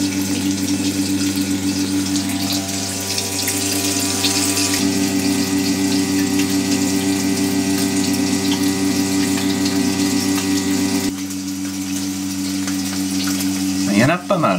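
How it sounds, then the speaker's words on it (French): An old electric fuel pump in a Mustang runs steadily with a continuous mechanical hum and watery pumping whir, loud and close throughout, with a brief rattling burst near the end. "c'est vraiment les derniers moments de fonctionnement de cette vieille pompe"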